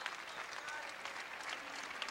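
Home crowd at a men's volleyball match in the Coliseum applauding and cheering on their feet at game point, a steady, dense wash of clapping and crowd noise with a voice talking over it.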